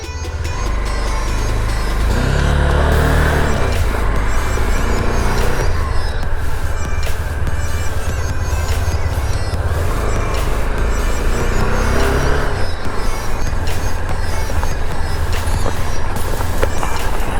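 A Honda NX200 motorcycle rides along a road, its engine droning loud and steady close to the rider amid continuous wind rush and passing traffic noise.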